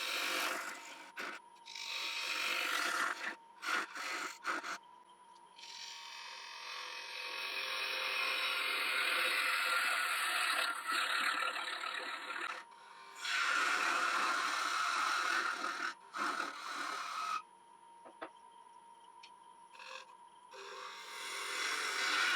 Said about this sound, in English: So we'll continue on with the bowl gouge.